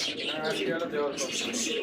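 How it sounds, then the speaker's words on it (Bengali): Bird calls from a pair of red Lahori pigeons sound throughout, soft cooing and chirping close by, continuous under a steady murmur of speech in the background. "এত সুন্দর এক জোড়া কবুতর মার্শাল্লাহ লাহরি না ভাই রেড কালারের মধ্যে লাহরি"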